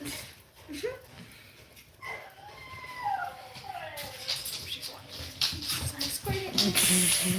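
An agitated puppy whines and gives rising, howling yelps near a person, with shuffling and people talking throughout.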